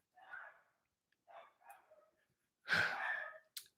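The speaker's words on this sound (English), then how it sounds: "We have dogs barking in the background." Dogs bark and yip from a crate in the background, several short muffled bursts with one louder bark near the end, faint and somewhat distant in a quiet home setting.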